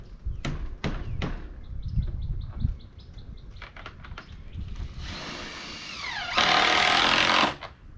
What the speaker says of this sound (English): I'm just putting 4 screws in.